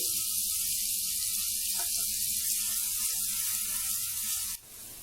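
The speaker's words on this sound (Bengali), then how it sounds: "একই পাত্রে আমি একটু তেল দিয়ে নিচ্ছি। পেঁয়াজ কুচি দিয়ে দিচ্ছি, মরিচ কুচি" Chopped onion and chilli sizzle loudly in hot oil in a pan for a masala begun vaji, a steady hiss with faint crackles that drops suddenly near the end.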